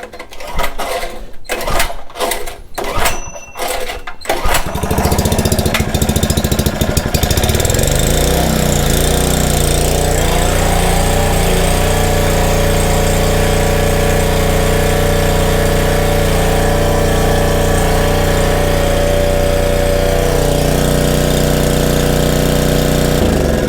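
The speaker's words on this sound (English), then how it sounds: "It runs, and the carb appears to be doing good." A Kawasaki FA76D small engine, freshly repaired at the carburetor and on choke, sputters through several sharp pull-start attempts, then catches and settles into a loud, steady, close running drone.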